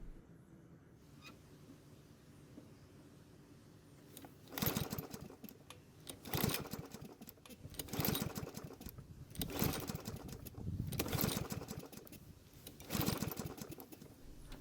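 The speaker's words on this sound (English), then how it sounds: "Next, I'll install the compression tester and pull the rope several times." Starter rope on a Toro lawn mower engine fitted with a compression tester is yanked repeatedly, giving about six loud, rasping pull-and-crank bursts at steady intervals, close by, with no talking.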